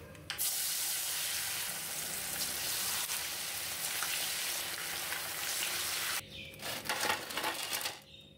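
Stuffed tofu filled with egg and sausage deep-fries in hot oil, a dense continuous sizzle that gives way near the end to a few clattering utensil knocks.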